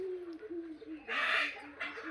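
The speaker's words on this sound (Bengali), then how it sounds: "এই যে আমার কবুতরগুলা" Domestic pigeons on a farm feeding and cooing: low, rolling coos repeat steadily at moderate distance, with two brief bursts of rustling or fluttering.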